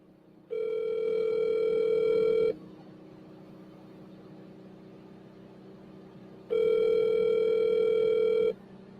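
An outgoing phone call rings back through the earpiece: two long, steady electronic ring tones about two seconds each, separated by a roughly four-second pause, clear and alone.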